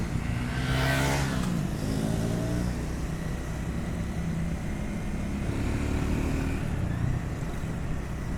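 Triumph Scram 400 motorcycle being ridden, its engine humming steadily with a brief rising rev near the start, wind noise constant underneath, no speech.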